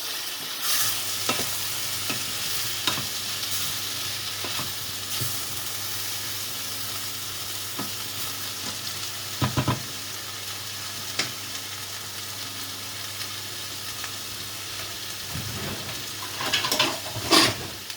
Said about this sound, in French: Je remets de temps en temps, pas que ça colle au fond de la poêle, que ça brûle.